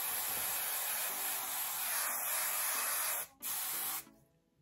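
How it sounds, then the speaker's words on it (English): Hairspray hisses from a can onto freshly curled hair, a close, steady spray lasting over three seconds, a brief break, then a short final burst before fading. "I'm gonna spray it."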